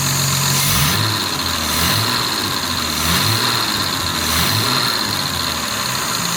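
A Jaguar MKII engine runs on two carburetors with a steady, even idle and a faint rhythmic pulsing throughout, close and continuous.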